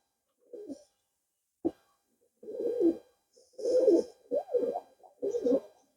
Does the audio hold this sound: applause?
no